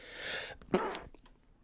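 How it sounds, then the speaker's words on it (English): A single close sneeze, preceded by a short breathy intake and followed by quiet rustling. "I'm about to sneeze."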